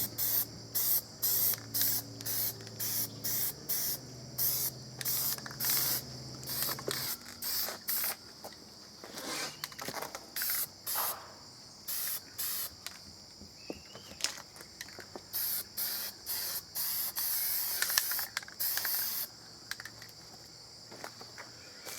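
Aerosol paint sprayed onto the plastic case of an old, yellowed Commodore 64C being turned black, heard as repeated close hissing bursts of varying length separated by short pauses, with no talking.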